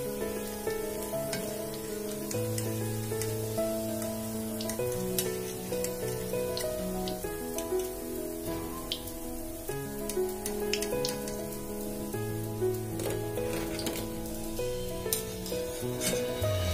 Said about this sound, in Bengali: একই রকম ভাবে আমি বাকি সমস্ত বড়া বা পকোড়া গুলো ভেজে নেব।